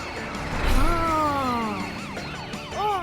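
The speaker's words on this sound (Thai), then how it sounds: "คมายไม่มีทางหนีรถตำรวจไปได้" Cartoon police car siren wailing in rising and falling sweeps, loud and close, with a low engine rumble at the start and short warbling chirps near the end.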